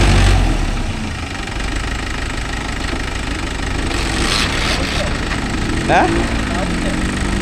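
A new Mahindra Yuvo Tech Plus 585 4WD shuttle gear tractor runs with a steady, knocking diesel idle close by, its throb rising briefly, while people talk nearby.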